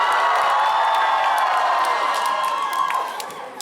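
A Moscow concert crowd at a show erupts in loud, sustained cheering and whooping with scattered claps, tapering off near the end.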